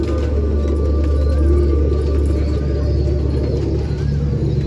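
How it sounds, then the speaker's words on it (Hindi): Domestic desi pigeons at a home loft in Nashik cooing softly, low throaty coos under a steady rumbling background, close but fairly faint. "देखो दोस्तों, इनके घर के खूबसूरत कबूतर"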